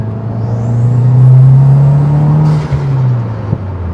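A 2022-or-later Subaru WRX with a newly installed full titanium front-mount intercooler pulls hard in third gear, a loud, steady engine drone that rises and then eases off, with a brief higher hiss partway through.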